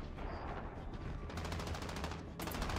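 SCAR rifle firing in a ground war match of a video game, bursts of rapid automatic shots rattling in quick succession, fairly close, with louder sharp volleys toward the end.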